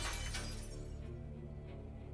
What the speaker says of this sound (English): I was happy to hear the satisfying sound of shattering glass